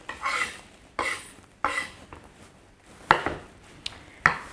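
A knife finely slicing vegetables on a cutting board for rice paper rolls, distinct close chopping strokes arriving in irregular bursts about once a second, each a crisp tap.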